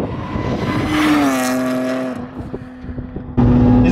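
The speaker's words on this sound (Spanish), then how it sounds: "vamos con la parte divertida y es conducir el coche." A Lexus IS200 sedan fitted with a Mercedes Kompressor supercharger drives off, its engine note rising and holding steady, then dropping back and building again, loud and close with no talk.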